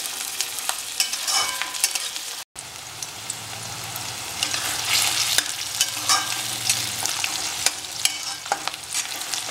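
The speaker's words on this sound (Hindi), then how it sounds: "प्याज को और शिमला मिर्च को हम थोड़ा अच्छा सा पका लेंगे" Onion and capsicum fry in a pan for chilli chicken, a continuous close sizzle with frequent spatula scrapes and stirring knocks; there is a brief dropout early on, after which a low hum joins the frying.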